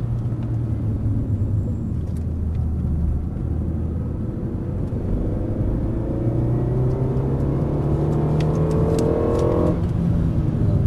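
A car accelerates on the Dreux race circuit, its engine note rising steadily through the gears as it gets louder and closer, with a rumbling drone underneath.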